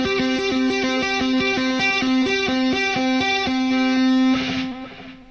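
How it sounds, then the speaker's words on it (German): Electric guitar plays a rapid rock tapping lick through distortion, repeating sustained bright notes in a quick even rhythm, loud and alone, ending on a held chord that fades. "Dementsprechend ist es einfacher, das Tapping mit Verzerrer zu machen"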